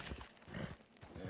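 Horse hooves clip-clopping in the video game Red Dead Redemption 2, a quick run of soft, fairly faint thuds in uneven rhythm, with no talk.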